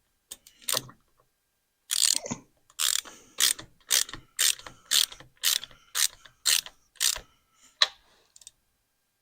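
Ratcheting wrench tightening a lock nut on a 1990 Harley-Davidson Softail Evolution, a close series of about a dozen sharp, rhythmic clicks in quick strokes, loud and alone with no voices.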